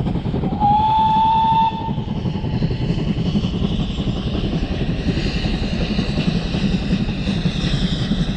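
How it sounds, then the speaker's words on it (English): A train rumbles steadily past at close range on the Torbay coast near Goodrington Sands while a horn or whistle sounds briefly near the start. The loud, continuous roar fills the whole stretch. "Here's the train."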